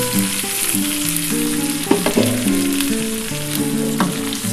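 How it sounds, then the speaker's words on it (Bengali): Pointed gourd pieces, already fried, cook in a pan with poppy seed water, giving a steady, loud sizzle with a few brief stirring clatters, while background music with a melodic line plays throughout. "এই পোস্তর জলটা আমি দিয়ে দিলাম এরপর এই যে পটলটা ভেজে ভেজে রেখেছি এই পটলটা দিয়ে দেবো"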